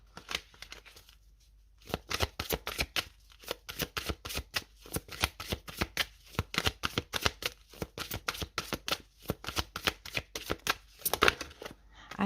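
Gaia oracle cards being shuffled by hand: rapid, close, crisp riffling bursts of card flicks in a quick irregular rhythm, broken by a few short pauses.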